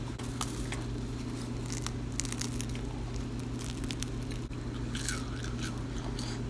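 Two-week-old pizza reheated by sous vide, bitten and chewed close up, with crisp crunching and chewing sounds at irregular moments over a steady background hum.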